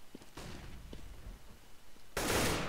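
Gunfire in the shooter game CS:GO, faint and distant at first, then a louder burst of shots near the end.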